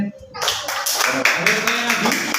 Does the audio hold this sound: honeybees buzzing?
no